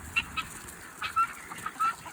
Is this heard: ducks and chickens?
yes